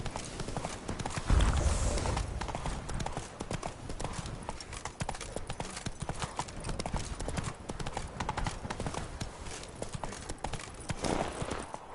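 Roach, the horse from The Witcher 3: Blood and Wine, trots with a dense, rapid clip-clop of hooves over a rumbling game soundscape, steady throughout and near, with no talking.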